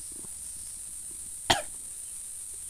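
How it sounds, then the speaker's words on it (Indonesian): A single sharp cough from a person on a forest hiking trail, close and brief, over a steady high insect-like hiss and faint background noise. "Udah mulai batuk."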